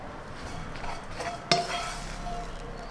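Green beans being stir-fried in a pan: spatula stirring and scraping against the metal over a faint sizzle, with one sharp clank near the middle.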